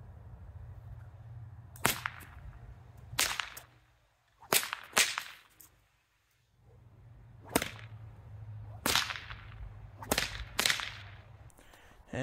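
Sharp, loud whip cracks made with a thicker fifth-variant whip cracker ring out about nine times at irregular intervals, some in quick pairs, with quiet gaps between them.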